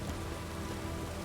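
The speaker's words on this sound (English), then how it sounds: "It's raining, of course it's going to be" Rain in the video game The Witcher 3, a faint, steady patter of rainfall on surfaces, soft and continuous with no talk.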